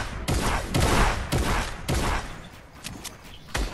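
Gunfire in a video game squad battle: loud, close bursts of rapid shots cracking in clusters, the densest in the first two seconds, then scattered single shots, with no talk over it.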